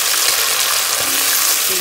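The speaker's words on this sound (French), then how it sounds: "Je commence par faire revenir mes légumes." Mixed vegetables for lasagna sauté in a hot pan, producing a loud, steady close-up sizzle with occasional stirring scrapes.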